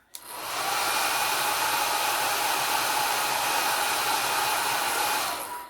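A hair dryer blows steadily on alcohol ink artwork, a loud, even airy whoosh that starts abruptly and runs unbroken for several seconds before cutting off.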